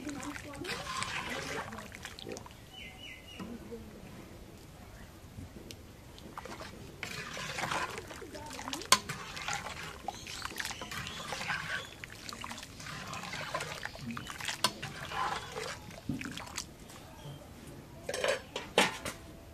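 Dishes and pots clink and clatter while water pours and trickles. The sounds are fairly faint and come in irregular bursts, with intermittent talking nearby.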